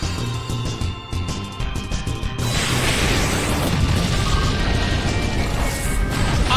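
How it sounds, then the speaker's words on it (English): An Explosion attack in the video game Pokémon Battle Revolution goes off as a sudden burst, a loud crashing blast that swells into a sustained rumbling roar after a softer stretch of mechanical game sounds, with no talk. "annihilated by explosion!"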